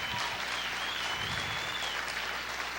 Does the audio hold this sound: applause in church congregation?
yes